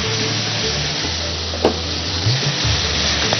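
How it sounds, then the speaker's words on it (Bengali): Vegetables fry in hot oil in a pan for egg drop fried rice, a steady soft sizzle with a low hum beneath and an occasional light clink of a utensil. "ভেজিটেবলস গুলো সব ফ্রাইটাই করতে শুরু করে দেবে?"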